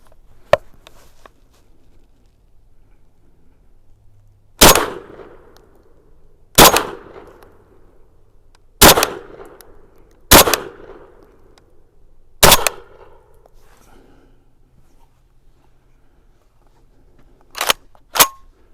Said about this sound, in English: Let's fire some more downrange.